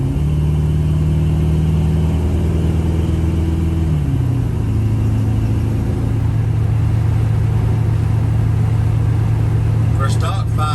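A 1970 C10 pickup with an LS-swapped stock 5.3 V8 drives along, its engine a loud, steady low drone that shifts pitch partway through as it pulls, heard from inside the cab with talk over it.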